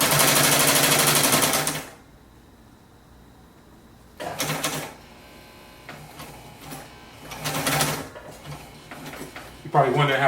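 A sewing machine running fast in short loud bursts, a rapid mechanical whir and clatter that stops and starts with quiet gaps between, and someone speaking briefly in the pauses.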